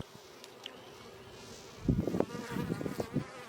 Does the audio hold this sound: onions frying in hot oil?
no